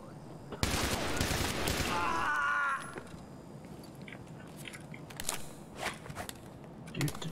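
Gunfire in the shooter game Escape from Tarkov, a loud burst of rapid shots up front, then scattered faint pops and clicks over a low background hum.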